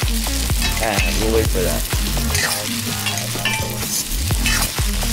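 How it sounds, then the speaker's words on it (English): Carrots and cauliflower sauté in a hot pan with a steady sizzle, broken by repeated scraping and knocking from stirring, while a voice speaks briefly over the cooking. "So we'll have to saute these vegetables for 4 minutes."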